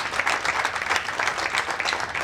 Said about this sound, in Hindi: एक बार फिर जोरदार तालियां आप सभी की